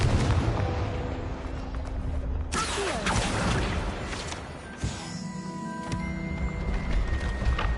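Confringo fire spell explosions burst in Hogwarts Legacy, several loud booming blasts with crackling tails landing close together over a rumbling game background.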